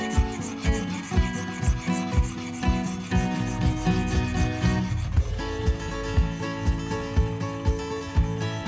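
The iron of a molding plane is rubbed back and forth across sharpening stones in steady, rhythmic gritty strokes, close up and fairly loud, keeping an even pace throughout.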